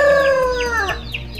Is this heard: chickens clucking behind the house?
yes